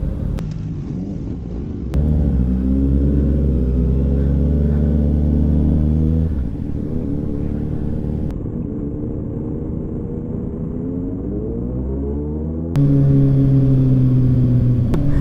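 Several motorcycle engines, including Honda CX-series bikes, rumble loudly up close, idling and revving in surges, with the pitch rising and falling as throttles are blipped.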